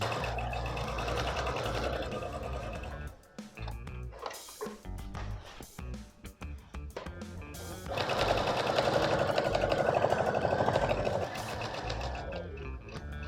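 A sewing machine stitches a seam in fabric, a steady close mechanical whir that pauses and restarts in short bursts before a longer run at a higher speed.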